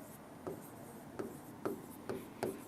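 Chalk or a marker taps and strokes across a board in five short, evenly spaced bursts, quiet and close, with no talking.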